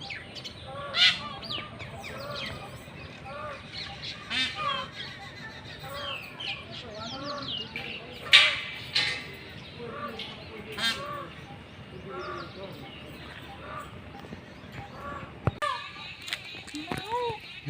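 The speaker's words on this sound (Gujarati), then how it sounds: "તમને પક્ષીઓનો અવાજ પણ સાંભળવા મળશે." Birds call in a city park, with rooster-like crows, clucks and bright chirps repeating close by and throughout, a rich overlapping chorus with occasional sharp peaks.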